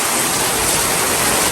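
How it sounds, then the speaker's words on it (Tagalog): Heavy rain pours down outdoors in a dense, loud, unbroken hiss that fills the whole moment without a break. "Napakalakas po ng ulan ngayon."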